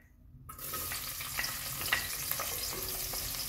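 Onions hit a hot pan for daal mash and burst into a sudden, steady sizzle after a brief silence, with faint stirring scrapes continuing up close.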